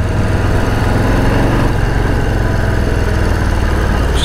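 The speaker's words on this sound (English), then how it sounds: "Such a cool engine." 2021 Harley-Davidson Street Bob 114 motorcycle engine running steadily, a loud, close, continuous rumble with a deep low-end throb and no speech over it.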